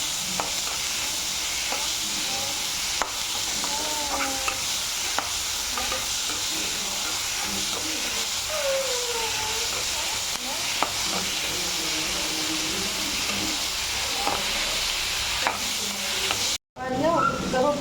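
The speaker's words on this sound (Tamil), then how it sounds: "வெந்த வெங்காயம் இந்த பதத்துக்கு வதங்கினா போதும்" Onions sautéing in oil for a green peas and potato gravy give a steady, close sizzle and frying crackle throughout, with occasional stirring scrapes and faint speech underneath.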